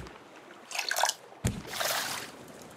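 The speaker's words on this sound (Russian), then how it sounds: "Выпить, налить жидкость." Fresh water pours into a cup in the survival game Raft, heard as two soft splashing bursts, the second longer and steadier, over a quiet background.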